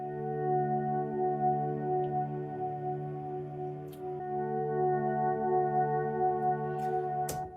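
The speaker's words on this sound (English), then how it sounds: "I'm really just playing chords and swelling the volume in with a volume pedal." Stratocaster electric guitar chords swelled in with a volume pedal, forming a smooth, sustained and layered tone with no picking attack, steady and fairly loud for the whole stretch.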